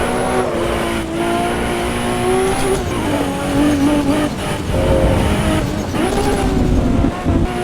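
Race car engine in the Assetto Corsa Evo video game screams loudly at high revs, held near the limiter with wavering pitch and brief dips and surges throughout, close and continuous.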